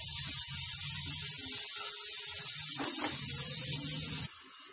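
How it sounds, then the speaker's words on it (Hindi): Finely chopped onion fries in a pan with a steady, bright sizzle that stays loud and even throughout, with faint stirring underneath and a sudden drop in level near the end. "और इसके बाद इसमें मैं एक प्याज डाल रही हूँ बारीक कटा हुआ। प्याज डालने के बाद इसे हम भून लेंगे"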